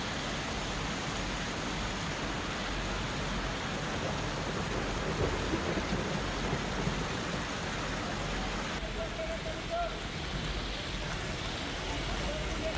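Dense, steady downpour roars across the whole clip with a low rumble underneath, like heavy rain with distant thunder, during Mumbai monsoon rains with water pouring at Bhandup station, with no clear voices.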